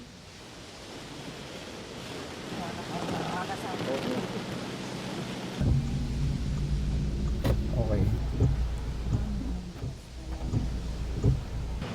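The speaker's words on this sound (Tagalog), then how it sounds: "sa ulan pa rin gumising ang mga taga Baguio City at ilang lugar dito sa Benguet na hanggang ngayon ay inuulan pa rin" Steady heavy rain pours in Baguio City, Benguet, a dense continuous wash of noise that grows louder midway, with a brief spoken word.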